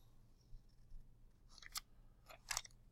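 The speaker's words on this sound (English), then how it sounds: "So I'm going to cut off each of these boxes." Scissors snip boxes off a notebook page, close and quiet: two short cutting bursts about a second apart, with faint paper rustling around them.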